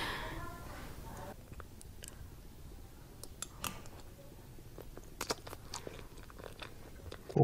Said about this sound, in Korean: 꼭꼭 씹어먹어.